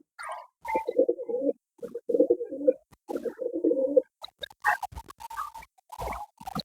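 Pigeons coo in repeated low throaty phrases close by, with soft flutters and small knocks between calls.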